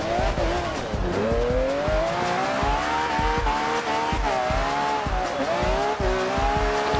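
A 2013 Mercedes-Benz E63 AMG with rear-wheel drive drifting in Forza Horizon 2: a loud, steady engine drone rising and falling in pitch through gear changes, with continuous tire squeal and rhythmic thumps running throughout.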